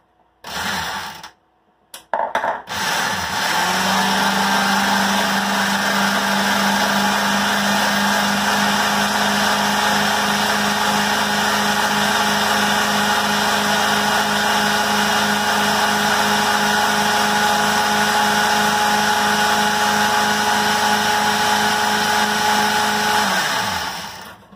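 An electric mixer whirs steadily for about twenty seconds, blending herb butter with pepper. The motor drone starts after a few brief bumps, runs close and loud, and cuts off at the end.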